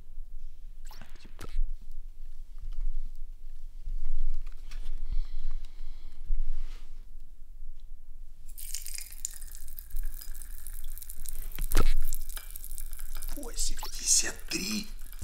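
Broadband fizzing and crackling hiss of popping candy in cold water rises up and runs steadily for several seconds, with sharp pops, after a quieter stretch with soft murmured voices.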